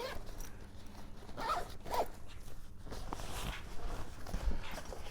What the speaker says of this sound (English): So that just zips closed if you're not using it.